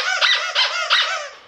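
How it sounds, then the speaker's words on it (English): A Zippy Paws holiday penguin plush dog toy squeezed, giving three quick close, loud, high squeaks in a row with no talk. "the first thing you get is this Zippy Paws Holiday Noel Squeaky Pad"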